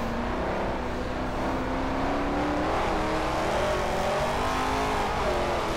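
A Camaro drift car in a virtual Formula Drift round on the Streets of Long Beach screams at high revs, its engine note wavering and climbing steadily through the sliding run, loud and continuous.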